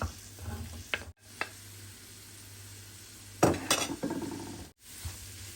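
Green and red peppers and grated carrot stir-fried in a pan with crushed garlic, a steady close sizzle broken by sharper scraping stirs and brief utensil clinks, with two short dropouts.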